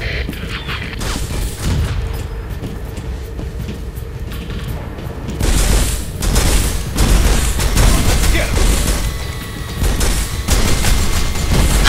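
Gunfire and booming blasts in the video game Turok, loud repeated shots and explosions in a busy soundscape that grows denser partway through, with voices heard in places.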